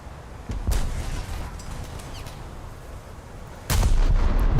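Heavy naval gunfire from the battleship Mutsu in a warship video game: two loud booming salvos, one early and a larger one near the end, over a steady rumbling battle ambience with no talk.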